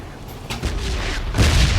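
An explosion in a shooter video game bursts at close range with a deep, rumbling boom that swells and holds, followed by a second heavier blast near the end, with no talk over it.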